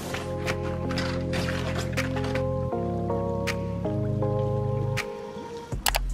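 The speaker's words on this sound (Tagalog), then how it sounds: "ipababad natin siya sa mainit na tubig" Water sloshes and drips steadily as a plate soaks and is washed in hot water, with a constant tonal hum running underneath throughout.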